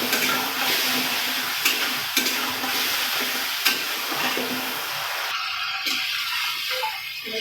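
A spoon stirs fish curry with eggplant and a little sugar in a hot pan, steady sizzling and frying under scraping strokes, close and fairly loud with no voices.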